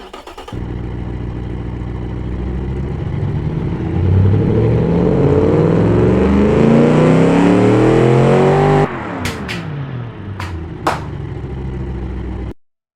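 A racing car engine in the video game Automation Car Tycoon roars and revs steadily, climbing in pitch, then drops off abruptly, followed by a few sharp clicks before cutting out.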